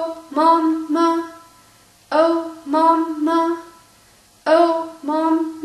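Violin open-string rhythm in a short-short-long pattern repeated three times, with crisp detached bow strokes and short pauses between groups, heard close and alone.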